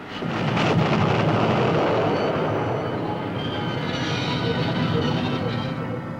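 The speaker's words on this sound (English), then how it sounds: "they derailed a yellow test flask and drove a train into it at 100 miles an hour" A train driven at 100 mph into a derailed yellow nuclear test flask during a crash test produces a loud, sustained roar and rumble of impact and grinding metal, dense and continuous throughout.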